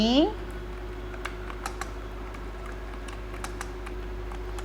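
Typing on a computer keyboard while entering a narration in Tally accounting software, a light, irregular series of close key clicks over a steady electrical hum, following a brief rising tone at the start.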